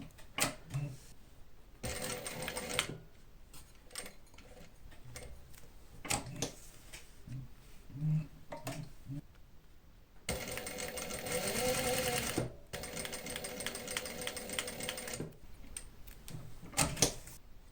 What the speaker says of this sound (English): my last part is to top stitch 3 sides of my pockets